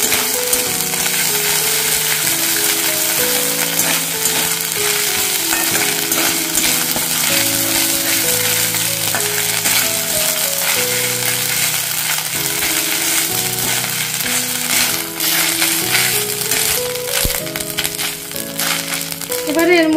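Ginger paste and crushed green chili fry in a pan for a vegetarian cauliflower roast, giving a steady crackling sizzle with scraping and stirring throughout, under continuous background music with no talk.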